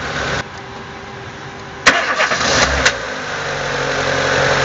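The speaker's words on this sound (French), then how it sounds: "Un petit bruit au niveau du démarreur." An idling car engine with a brief starter crank and a couple of sharp mechanical clicks in the middle, close by, no voices.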